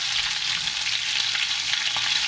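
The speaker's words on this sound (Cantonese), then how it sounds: "將準備好嘅 葱片同埋薑片倒落去啲油度" Scallion and ginger slices sizzling in hot oil in a pan, a steady loud hiss of frying with faint crackles throughout and no talking.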